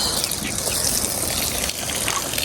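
Water flowing steadily at a village water source. A continuous, loud rushing gush runs unbroken and close for the whole stretch.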